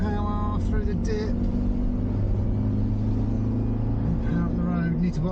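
A Suzuki Jimny pulls through a dip on a country lane in Kent, its engine a constant, close rumble under steady acceleration while someone talks over it.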